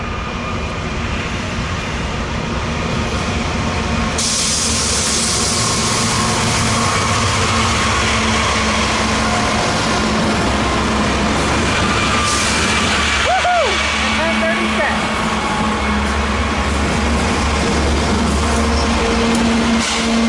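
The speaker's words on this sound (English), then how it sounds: "Yep, that's clearly a Z-train right there." A Z-train, a fast intermodal freight, rolls past at Commerce with a steady, heavy rumble and broad engine roar that fills the whole stretch at close range, joined by brief squeals and clanks midway.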